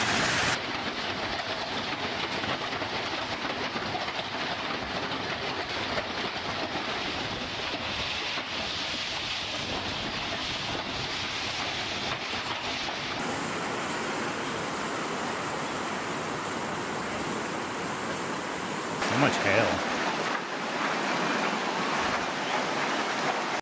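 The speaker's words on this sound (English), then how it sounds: "I didn't expect that, to see this much hail." A steady roar of heavy hail drums continuously during an Australian storm, dense and loud, with a brief knock near the end and no voices.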